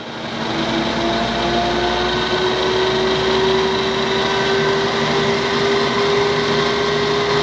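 Santec RB 10 vertical mill spindle turning in its low speed range, a steady mechanical hum with a faint sustained whine, running continuously close by with no talk.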